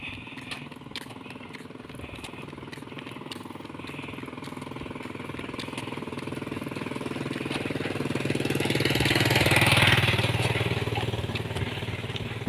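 Motorcycle engines rumble on a road in the Philippines, a continuous engine drone that swells as a bike passes close around the middle, then eases back.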